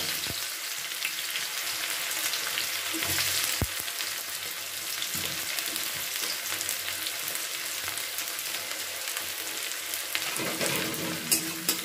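Five medium onions, six green chillies and chopped garlic fry steadily in a pan, giving a continuous close sizzle with a faint clatter of stirring near the middle and end, no voices.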